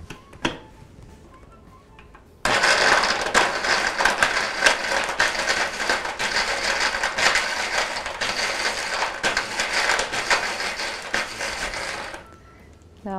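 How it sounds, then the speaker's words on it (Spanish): Blender whirring loudly as it purees tart cape gooseberries with honey into a fruit slush, a harsh grinding roar lasting about ten seconds that starts suddenly and stops, with quieter rattles before and after. "Y vamos a licuar."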